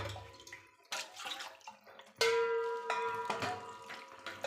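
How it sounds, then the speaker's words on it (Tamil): Water pours into a pot of sambar in uneven splashing bursts, loudest in the second half, close by with no talking. "தேவைக்கு தண்ணி சேர்த்திக்கலாம்."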